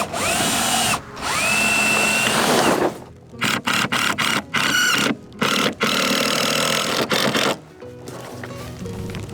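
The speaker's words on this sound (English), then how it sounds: "Drill." A cordless drill whirs in long bursts, then several short stop-start pulses as the trigger is squeezed and released, loud and close.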